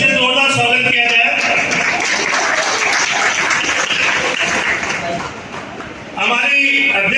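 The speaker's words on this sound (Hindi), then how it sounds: "तालियों से जोरदार स्वागत किया जाए।" Applause from an assembled audience welcoming the chief guest onto the stage at a Vishva Hindu Parishad foundation day ceremony, dense clapping that fills most of the stretch and dips near the end, while voices talk over it at the start and finish.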